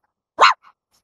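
A single sharp, loud dog bark close by, followed by a brief faint yip, then silence.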